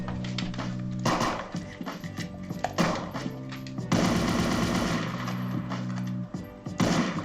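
An AK rifle fires in a self-made OpenGL first-person shooter game, loud rapid automatic bursts rattling almost nonstop with brief gaps between strings of shots.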